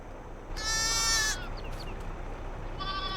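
A sheep bleats in the Farming Simulator 22 video game, one clear wavering bleat followed by a shorter, fainter second call against a quiet farm background.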